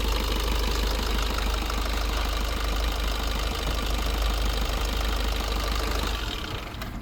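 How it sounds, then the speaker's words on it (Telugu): A 2018/9 Maruti Baleno Alpha diesel engine idles with a loud, close, steady rumble and slight knocking texture that holds evenly throughout, then eases off briefly at the end. "మీకు ఇంజన్ వాయిస్ కూడా చూపిస్తా సార్ ఇంజన్ కూడా సైలెంట్ ఉంది"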